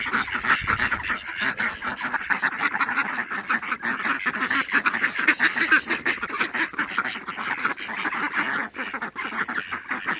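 Village ducks, mostly wild-type birds released from their coop, quack in a steady overlapping chorus close by, dense rapid calls continuing throughout without speech.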